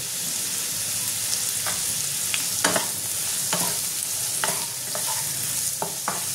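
Chopped green chilli frying with a little salt in a home pan, a constant loud sizzle with frequent sharp scrapes and clinks of a stirring spoon, no voices.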